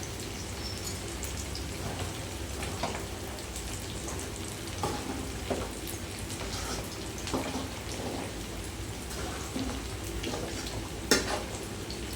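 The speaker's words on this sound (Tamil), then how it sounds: "எண்ணெய் நல்லா எண்ணெய் கொதிச்சிருச்சு. நான் மீன் போட்டு வெந்துட்டுருக்கு." Fish frying in well-heated oil makes a dense, continuous crackling sizzle, like steady rain, with light spatter pops throughout.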